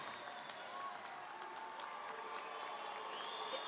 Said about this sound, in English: one more round of applause for the class of 2019